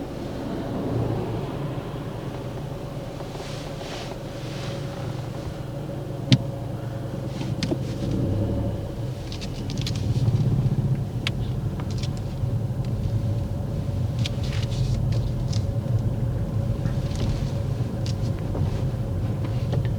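A learner driver's car pulls away from the kerb during a driving test, heard from inside as a low steady engine and road rumble with wind noise and occasional clicks and knocks.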